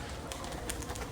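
White pigeons coo softly in a brief, faint burst near their home coop.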